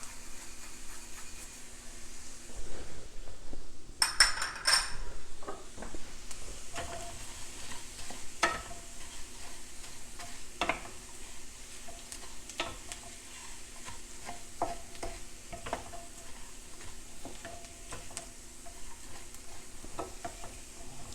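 Rice stirred and fried in butter in a pot sizzles steadily throughout, with a spoon scraping and tapping at irregular intervals, close and moderately loud, with no talking.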